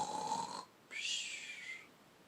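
People imitating a bear snoring during a reading of a children's story, two drawn-out breathy snore sounds separated by a short pause, moderately loud and without words.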